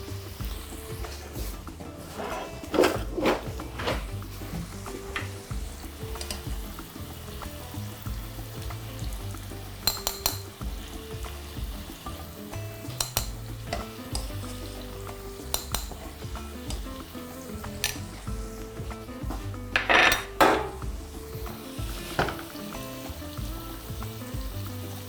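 Meat for chashushuli sizzles and fries in a pan, a steady crackle with occasional clinks of utensils against the pan and scraping stirs, fairly close.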